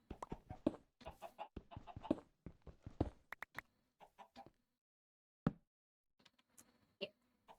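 Chickens cluck in a blocky mining and digging video game, a busy run of short, close clucks through the first half, then a lone cluck and a few softer scattered clucks after a pause.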